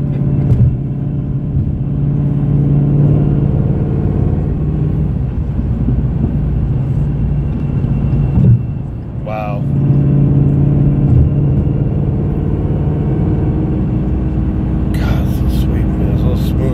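Super Snake car on the road, its engine giving a loud, continuous low rumble that eases briefly midway and then returns, with voices inside the cabin.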